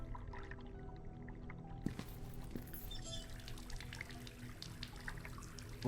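A wash closet tap runs steadily in the Asylum video game, water pouring continuously into a basin at moderate level for several seconds with a brief splash near the end.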